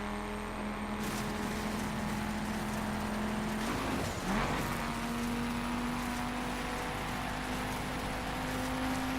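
Engine of a dirt-spec rally-style car driving in The Crew racing game on the Bonneville Salt Flats, a steady loud drone throughout with a brief shift and dip in pitch midway before settling back to a constant hum.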